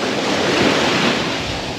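Loud, steady rush of stormy surf on the Crimean coast at the Opuk Nature Reserve, with wind noise buffeting the microphone, continuous and close, with no voices.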